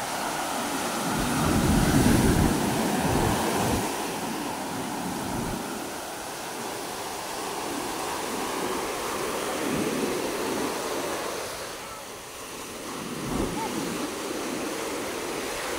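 Sea waves wash and surge around a small wooden boat on open water, a steady roar of surf and gusting wind across the microphone that swells loudest early on and then settles into a continuous rush.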